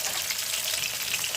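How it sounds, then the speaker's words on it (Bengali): Small puti fish fry in hot oil in a pan in a Bangladeshi village kitchen, giving a continuous close-up sizzle with a fine crackle that stays steady throughout the short stretch. "এই যে মাছ ভাজা হচ্ছে"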